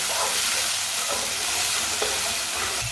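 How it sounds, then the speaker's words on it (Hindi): Onions and chopped tomatoes fry in a pan while being mixed, giving a steady dense sizzle with soft scraping stirs throughout, loud and close with no talking. "अच्छी तरह मिक्स कर लेंगे।"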